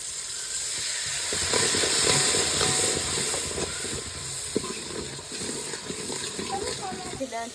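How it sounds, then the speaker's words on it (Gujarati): Water poured into a hot pan of spiced gravy cooked with turmeric and chili hisses loudly and steams, a dense close rush that swells, then gradually settles into a softer bubbling hiss. "બળે ની માટે નાખવાનું છે આપણે પાણી."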